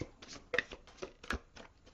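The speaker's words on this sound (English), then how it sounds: "One more shuffle." Tarot cards are shuffled by hand in a few quick, soft riffling bursts, close and quiet.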